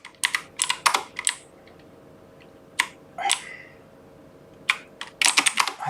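Fingers type on a gamer computer keyboard, close and clicky, in quick bursts of keystrokes separated by short pauses, with a final flurry of rapid taps at the end.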